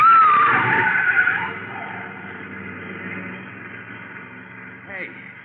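An old-time radio car screeches as it speeds and skids toward pedestrians: a loud tire squeal that fades into a low rumble, followed by a brief, fainter squeal near the end.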